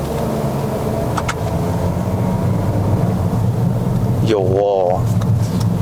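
A Toyota Corolla Sport 1.2T pulls away from a stop, its engine making a low steady drone inside the cabin while the driver speaks briefly over it.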